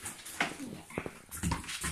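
A dog whimpers in short, soft, high whines and yips, close by, with brief quiet gaps between them.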